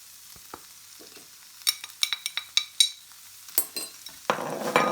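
Chicken is stirred in a pan with dry spices, making a series of sharp metallic scrapes and clinks in a loose rhythm, followed by a rising sizzle of frying at the end. All of it is close, with no voices.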